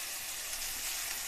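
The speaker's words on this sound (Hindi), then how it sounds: "इसको 2 से 3 मिनट फ्राई करेंगे।" Garlic and ginger frying in a pan over lowered heat give a steady, close, hissing sizzle for a short moment, with no voices.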